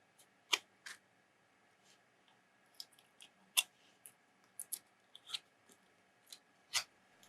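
Foil peeled off a mini watercolor paint palette in small crinkly tears and crackles, scattered irregular bursts close by in a quiet room.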